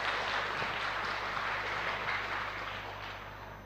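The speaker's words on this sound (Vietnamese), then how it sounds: "Vỗ tay cái cho nó vô." An audience claps at the start of a Buddhist monk's talk, steady broadband applause at moderate level that slowly fades toward the end.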